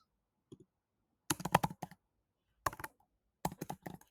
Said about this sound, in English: Type that in